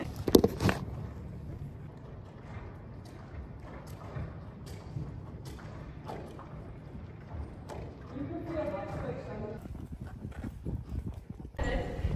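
Horse hooves clip-clop steadily in a riding arena, close and continuous under nearby voices talking, with a brief whinny-like sound and some rustling toward the end.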